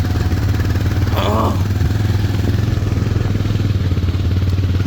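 A 200cc motorcycle engine labours steadily uphill on a friends' group ride, a constant low drone with a brief clatter partway through, close and loud throughout.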